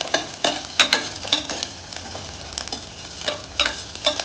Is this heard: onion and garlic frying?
yes